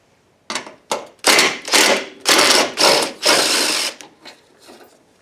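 Ratchet with a 10mm socket backing out starter motor bolts on a Honda 3.0 VTEC engine, heard as a series of loud, close, rapid clicking bursts of uneven length, several in a row before trailing off into fainter clicks.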